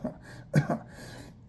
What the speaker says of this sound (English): It manifests itself in like a cough sometimes.